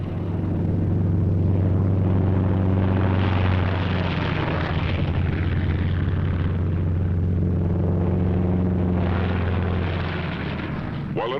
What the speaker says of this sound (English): Takeoff by twos on the quarter minute.